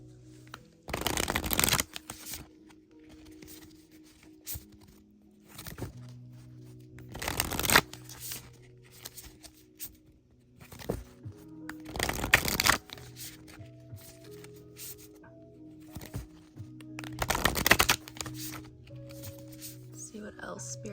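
Playing cards shuffled by hand in four quick riffling bursts spaced a few seconds apart, close and crisp, with a person talking in between.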